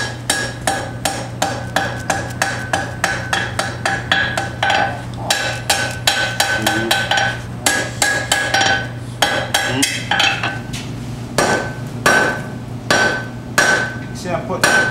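Steel stock is hammered to a point on an anvil, with a close, loud series of rhythmic ringing blows, some quick runs and some pauses, and bright metallic clinks between strikes.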